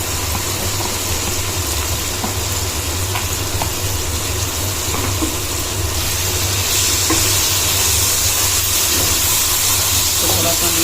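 Chopped peas, carrots and capsicum hit hot masala in a pan, giving a loud, steady hissing sizzle with occasional stirring scrapes, close and unbroken.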